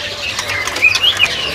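Magpie robins (murai) singing at a bird shop kiosk, a few brief high whistled chirps over a steady noisy background, fairly faint and close together.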